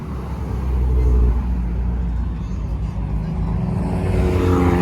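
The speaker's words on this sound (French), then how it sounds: "Ah, il y a la GT3 RS, je vais rester là. Elle fait un bruit, vous allez l'entendre" A Porsche GT3 RS engine at a car event, a deep loud rumbling idle and low revving held close throughout, with people talking in the background.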